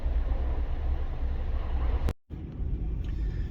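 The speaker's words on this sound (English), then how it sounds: "So I'm actually driving right now to the shop." A car's steady low engine and road rumble drone on the drive to the shop, broken by a brief drop-out before the hum resumes.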